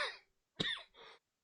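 A person with a sore, burning throat gives a couple of harsh coughs close to the microphone, followed by a rougher throat-clearing rasp, then silence.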